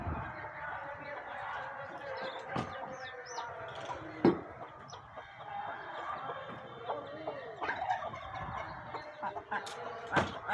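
Chickens cluck among backyard poultry, with scattered squawks and a rooster-like call over steady bird chatter, while people talk nearby.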